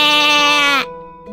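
A voice imitates a goat's bleat: one long, wavering nasal "maa" that cuts off abruptly, followed by a faint tail.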